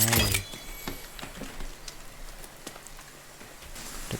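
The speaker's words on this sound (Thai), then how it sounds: "ฝนตกหนักขึ้นทุกทีทุกทีนะเนี่ย" Steady rain patters on a forest survival camp with a leaf shelter, a dense wash of drops and scattered small taps running throughout after a louder knock at the start.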